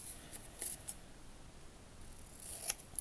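Scissors snip through a paper filmstrip in a few quick, close cuts, each one crisp and distinct, with faint rustling between them in an otherwise quiet room.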